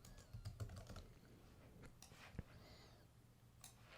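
Keys tapped on a computer keyboard in quick soft clusters, close but quiet, with a louder single keystroke partway through, then a brief pause before a final tap.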